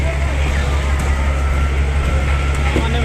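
A train rolls along its rails in a continuous low rumble, with faint clanks and squeals over steady broadband noise and people talking in the background at a crowded festival fair.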